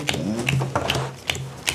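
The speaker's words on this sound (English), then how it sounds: "Shuffle that deck." A deck of cards being shuffled by hand during a tabletop game, heard as a series of soft, crisp riffling clicks and snaps, close by, with a low background hum.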